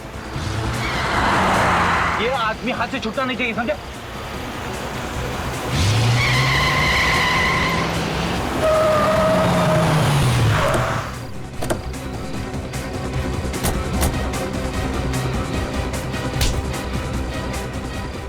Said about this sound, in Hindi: गाड़ी तेज चलाओ पंकज, और तेज।